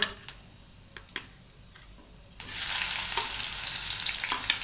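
Cumin and onion frying in oil on a black iron tawa: a few sharp taps and clicks, then a sudden loud, dense sizzle that holds steady to the end.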